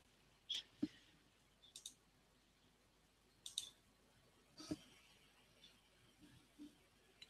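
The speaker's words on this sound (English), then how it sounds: "Oh, I'm clicking the wrong buttons." Computer mouse clicking while a tabletop game session's software is being opened, with several faint, sharp, scattered clicks spread unevenly across a quiet background.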